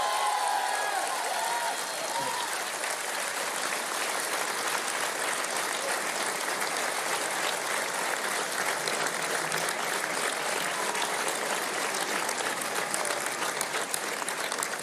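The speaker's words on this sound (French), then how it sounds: "Je voudrais ici que vous puissiez les applaudir partout sur le territoire." Sustained, dense applause from a large crowd at Emmanuel Macron's final 2022 French presidential campaign rally, saluting health professionals; loud and steady throughout with no break, a faint voice briefly audible near the start.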